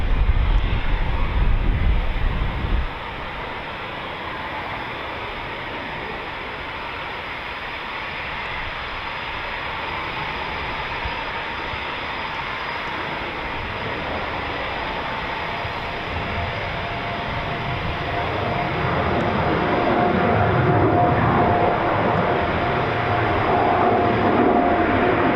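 Eurofighter Typhoon FGR4 fighter jet taking off at RAF Coningsby, a loud sustained engine roar that fades slightly after a few seconds, then builds again and holds steady near the close, with a faint rising whine.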